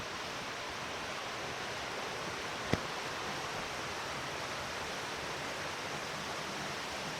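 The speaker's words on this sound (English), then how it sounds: "we get a pretty cool view of the upper part of the waterfall close up" Fallingwater Cascades waterfall on the Blue Ridge Parkway, heard up close as a loud, even roar of rushing water, broken by a single sharp click partway through.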